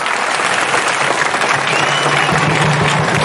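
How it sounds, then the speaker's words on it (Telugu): Loud, dense applause from a large crowd at a National Integration Diamond Jubilee celebration in Kothagudem, India, steady clapping that fills the whole stretch without a pause. "గట్టిగా చప్పట్లు కొట్టాలి"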